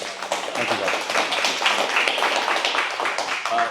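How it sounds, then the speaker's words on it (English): An audience at a monthly healthcare talk event applauds steadily for two speakers, a dense, even patter of clapping hands that continues for several seconds. "can we give a round of applause to Todd and Alice for sharing?"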